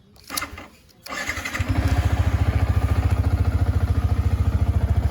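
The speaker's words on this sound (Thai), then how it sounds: "เดิมนุ่มเสียงเครื่องยังสมบูรณ์อยู่เลยนะครับ" A Yamaha MT-15 motorcycle engine starts after a few brief clatters, then settles into a steady, close, rhythmic idle that carries on evenly to the end.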